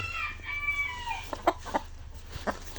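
Broody Gurk hens call and cluck nearby, a drawn-out vocalization followed by several short, sharp clucks spaced irregularly.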